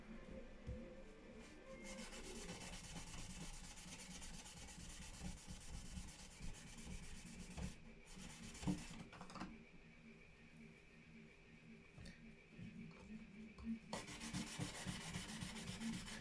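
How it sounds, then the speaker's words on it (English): Guitar frets being polished by hand, a steady dry rubbing and scraping that runs almost continuously, close and fairly quiet, with brief pauses between strokes. "it was just on my mind while I was polishing frets"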